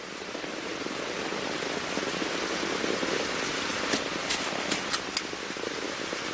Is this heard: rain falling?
yes